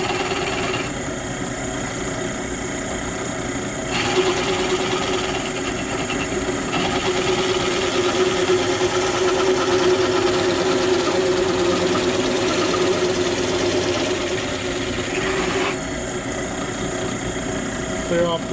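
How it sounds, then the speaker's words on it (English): A drill fitted with a 2-inch hole saw cuts a hole through the wall of a cooler, giving a steady, loud grinding whir that runs continuously with slight shifts in pitch and intensity. "I'll put in a 2-inch hole saw, and it'll come down to the exact same hole"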